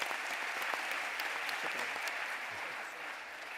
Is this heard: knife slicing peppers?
no